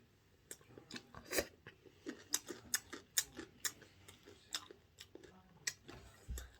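Food being chewed during a mukbang eating broadcast, with close, wet, irregular bites and crunchy clicks spread through the clip and no talk over them.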